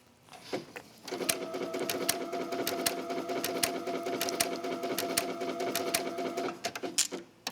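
A sewing machine runs a continuous burst of stitching on a wrap dress, starting after a brief pause and holding a steady mechanical whir with rhythmic clicks, close and clear, before slowing into a few separate taps near the end.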